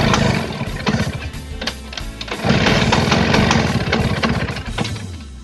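An original Vespa Sprint scooter engine runs with a rough, uneven two-stroke putter while its carburetor is being adjusted, the revs rising and falling close by.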